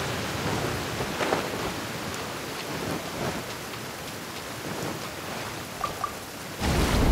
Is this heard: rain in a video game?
yes